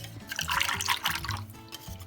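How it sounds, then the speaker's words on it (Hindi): Water is poured into green bathua raita, a thin, bright trickling and splashing that fills the short stretch with small droplet sounds, close and clear without talk. "थोड़ा पानी और डाल देते हैं।"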